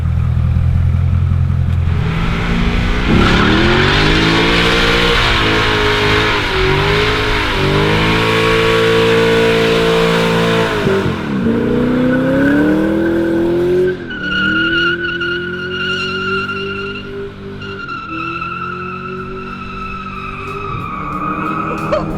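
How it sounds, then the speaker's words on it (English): A Corvette Z06 sports car with a manual gearbox roars through a sustained burnout, engine revving hard in loud rising and falling waves, then easing into a steadier high-pitched drone with tire squeal close by. "I can't be done with this without giving it at least one proper burnout"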